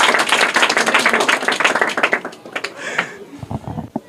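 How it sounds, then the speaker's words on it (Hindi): An audience applauds a correct quiz answer from a boy in Bihar, with close, dense hand clapping for about three seconds that thins to a few scattered claps. "करेक्ट आंसर है, जोरदार तालियां इनके लिए।"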